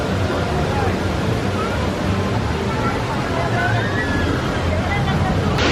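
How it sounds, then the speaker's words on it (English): Ripsaw Falls log flume water ride at a theme park: steady rushing water and splashing blend with a constant murmur of crowd chatter and wind, loud and unbroken throughout. "Ripsaw Falls is a log flume water ride with one heck of a drop."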